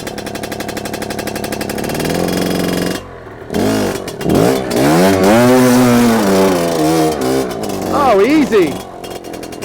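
A Fantic twin-shock two-stroke trials bike engine buzzes and revs in third gear, a raspy warbling drone that drops out briefly then surges back in rising and falling pulls, loud and close, with a rider's voice over it.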